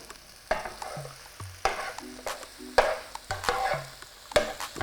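A turkey burger topped with mild cheddar cooks in a pan, with a low steady sizzle broken by repeated clatters and scrapes of a spatula and pan, all close and at moderate volume.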